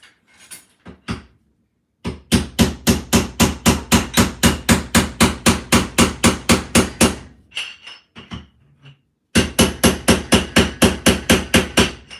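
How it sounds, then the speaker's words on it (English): A hammer strikes an object in fast, loud, evenly spaced blows, two long bursts of rapid whacks separated by a short pause and a few stray knocks. "I am going to whack this with a hammer a couple times"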